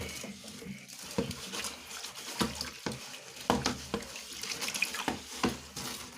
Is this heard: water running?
yes